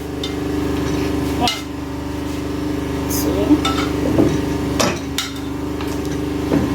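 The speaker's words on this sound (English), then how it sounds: "Each time I'm mashing my potato." Boiled potatoes are mashed by hand with a spoon in a pot or strainer, producing soft repeated squishing thuds and occasional utensil clanks against the pot over a steady background hum.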